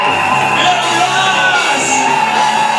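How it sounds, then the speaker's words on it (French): A wedding-blessing congregation acclaims loudly, a dense sustained wash of shouting and cheering voices that fills the space without pause. "Si tu as la joie, acclame très fort."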